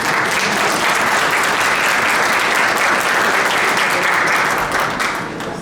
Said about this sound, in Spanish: Un aplauso para Tere.